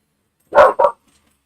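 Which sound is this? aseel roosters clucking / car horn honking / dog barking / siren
dog barking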